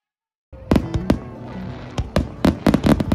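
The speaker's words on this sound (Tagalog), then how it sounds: "Nag-start yung fireworks show at exactly 7:40 PM and nag-span nito ng 1 oras." A fireworks show in Japan bursts into sharp, loud bangs after a moment of silence, irregular explosions popping and cracking over a continuous rumbling crackle.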